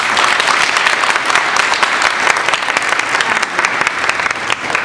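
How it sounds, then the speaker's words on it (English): An audience at a Children's Grief Awareness Day event in Northeast Ohio applauds, a dense, steady round of clapping close by with bright individual claps throughout. "y'all give her another round of applause, please"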